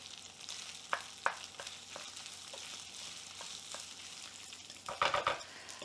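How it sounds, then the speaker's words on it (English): Half a diced onion browns in a hot pan with a steady close sizzle and crackle, broken by a few scraping stirs and a louder burst of frying near the end. "1/2 of a diced onion in here. Keep browning it."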